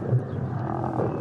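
Lions jostling while feeding, a low rumbling growl that holds steady through a short moment, close and moderately loud.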